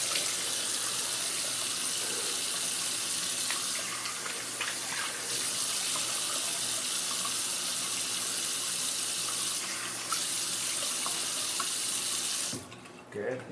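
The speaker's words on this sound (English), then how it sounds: "I'm just going to rinse my face off here real quick." Tap water runs steadily from a bathroom faucet into a sink as a face is rinsed after a shave, a continuous close splashing hiss with small shifts in flow, cutting off near the end.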